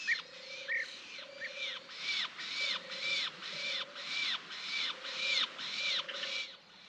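Blue roller chicks call from inside a large hollow in an old silver poplar, a steady run of about a dozen rasping, evenly spaced cries repeated roughly every half second, close and alone with no voices.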